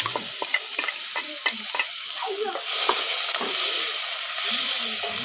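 Onions and other ingredients sizzle and crackle in a pan while being stirred, with scraping strokes of a spoon in a steady rhythm over a continuous loud frying hiss that swells in the second half.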